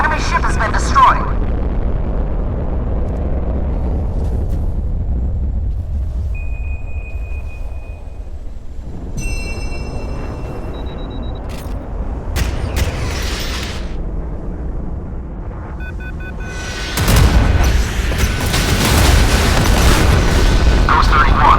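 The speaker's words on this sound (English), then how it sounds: "The enemy ship has been destroyed." An enemy warship blows up in the naval combat game Modern Warships, with deep rumbling booms at the start and a louder, sustained blast near the end, under in-game radio voice lines and synthetic interface tones.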